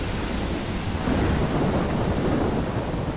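A heavy thunderstorm in the video game Life is Strange: dense, steady rain roars close by with a deep, continuous thunder rumble underneath, loud and unbroken, with no voices.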